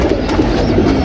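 A pigeon fitted with a Narayanganj leg band coos close and loud in a continuous low burble, with no voices.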